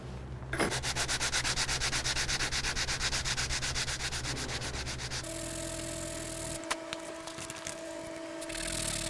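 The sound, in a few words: sanding a wooden takedown selfbow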